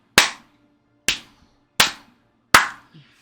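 Four sharp, loud hand claps ring out alone at roughly one-second intervals, each with a short decaying tail and no talking around them.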